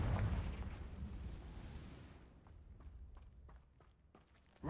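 A Confringo fire spell bursts in Hogwarts Legacy with a low booming blast up front that rumbles away, followed by faint footsteps and small clicks before a sharp new hit at the very end.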